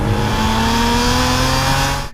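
A BMW M Coupe with its S50 engine, rated about 320 horsepower and revving to 7,000 RPM, holding a loud, steady engine drone close by for about two seconds before it cuts off abruptly.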